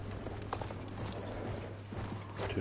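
Horse hooves gallop in a steady clip-clop rhythm in a video game cavalry match, mixed with game noise and a low steady hum, moderately loud throughout.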